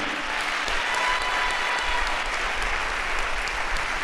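A church congregation claps and applauds during a bishop's sermon, a steady, dense wash of many hands sustained throughout, fairly loud and close, with no voices over it.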